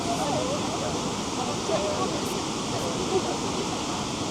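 Waterfall in Krka National Park, a constant broad roar of falling water, steady and enveloping with no distinct breaks.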